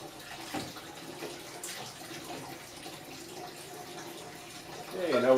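Water runs and splashes as a metal part is rinsed between alkaline and acidic cleaning baths, a soft continuous flow with small splashes that swells louder at the end.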